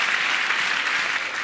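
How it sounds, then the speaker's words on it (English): Applause from a crowd at a religious gathering, dense steady clapping that fills the short moment loudly and close, with no talk over it. "Clap for Jesus."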